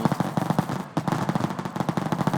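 A modeled AK rifle fires in a naval combat video game: rapid automatic bursts of sharp cracks, with a brief pause just before the one-second mark and then continuous fire, loud and close, with no speech.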